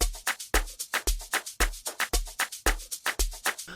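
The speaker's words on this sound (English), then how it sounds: "Amazing shaker loop we have over here guys" A steady programmed amapiano shaker loop from Caustic 3 plays alone. It is crisp and bright, with repeating rhythmic accents and a solid low pulse in each cycle, loud and close.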